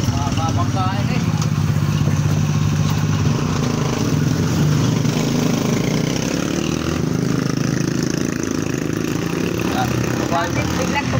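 A motorcycle engine running nearby with a steady low rumble, heard beneath people talking throughout.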